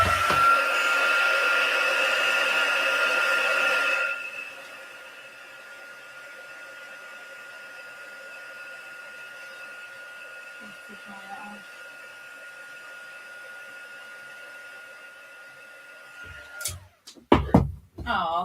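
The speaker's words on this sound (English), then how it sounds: "Just going to give that a blast with a heat gun." Handheld heat gun blowing, a loud steady whirring hiss with a high whine for about four seconds, then cut off, leaving faint room hum before some closing clunks and handling knocks.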